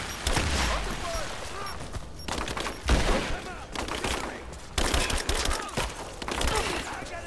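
Gunfire crackles during a firefight in the video game Rise of the Tomb Raider. Loud, dense bursts and volleys repeat in waves, with shouting soldiers' voices mixed in.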